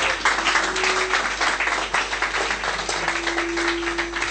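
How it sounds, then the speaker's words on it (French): Church congregation applauding during a sermon, a steady, dense wash of clapping that holds at an even level throughout with no clear gaps. "Applaudissez Jésus-Christ."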